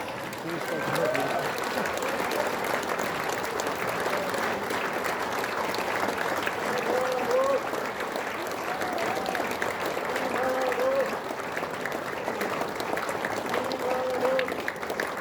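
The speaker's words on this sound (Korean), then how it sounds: "기립박수로 한번 모셔보겠습니다" A seated audience rises for a standing ovation at a Korean lecture event, sustained dense clapping filling the hall steadily for the full stretch, with faint voices beneath.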